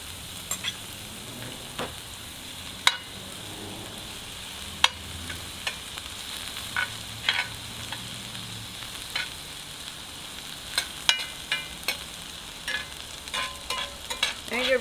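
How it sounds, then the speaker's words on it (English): Mushrooms reheat in a frying pan, sizzling softly and steadily close up, with scattered sharp clicks and scrapes of stirring utensils against the pan. "I'm going to reheat my mushrooms."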